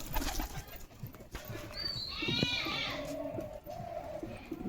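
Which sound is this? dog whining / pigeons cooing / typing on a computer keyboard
pigeons cooing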